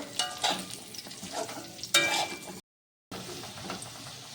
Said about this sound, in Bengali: আলু দিয়েও আমি 1-2 মিনিট মতো ভালো করে নেড়ে ছেড়ে নেব